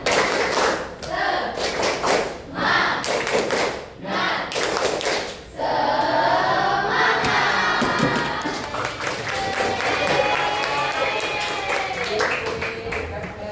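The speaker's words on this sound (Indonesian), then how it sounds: "Tepuk semangat." Students in a classroom doing a rhythmic spirit clap, loud patterned bursts of clapping and shouting with children's voices and cheering, a brief pause midway before the group chanting and clapping resumes.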